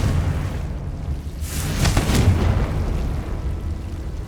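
A Confringo fire spell bursts in Hogwarts Legacy, a single loud whooshing blast that swells and rolls into a sustained rumbling roar, standing alone with no voices over it.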